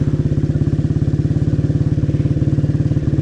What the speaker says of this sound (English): the engine is got a harder edge on it than the Sunbeam, because it's a racing bike